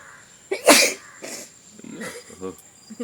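A sharp, loud sneeze bursts out during a family sneezing challenge, followed by further shorter sneezy bursts and snorts scattered through a few seconds, with people talking and reacting around them.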